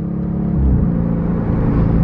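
A 2021 Dodge Charger R/T with its V8 pulling hard on a freeway, a loud, steady low roar that swells as the revs climb, heard from inside with no talking.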